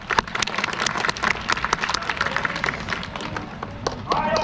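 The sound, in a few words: sea lion clapping its flippers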